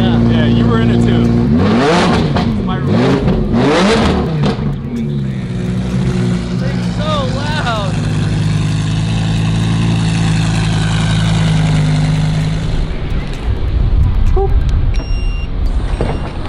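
Lamborghini Murcielago V12 blipping hard with several sharp revving bursts early, then a loud steady idle drone, with people talking over the engine noise.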